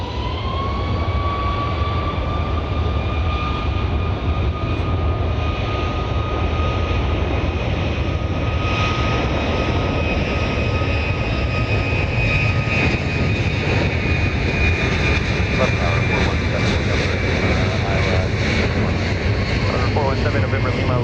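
A Southwest jet airliner takes off from runway 31 right at Dallas Love Field, a loud, steady engine roar with a whining tone that holds for the full twenty seconds, and no voices are heard.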